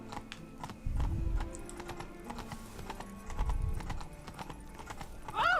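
Roach, the horse in The Witcher 3: Blood and Wine, gallops with rapid rhythmic hoofbeats clip-clopping over ground. Heavy thumps swell twice, and a short whinny rises at the end.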